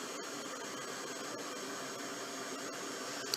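A heat tool blows hot air over a craft piece, making a steady, even hiss and whoosh that runs without break at close range.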